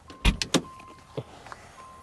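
Rear glass hatch of a Dodge Viper GTS popping its latch and lifting open on struts: a couple of close, sharp mechanical clunks followed by softer clicks and a faint whir, with no talking.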